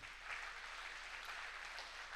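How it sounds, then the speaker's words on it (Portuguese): A church congregation applauds in a continuous, even wash of clapping, heard at a distance and fairly faint, with no voices over it. "Vamos aplaudir Jesus, que Ele merece."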